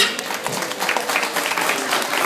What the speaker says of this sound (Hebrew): בהחלט מגיע לרז מחיאות כפיים.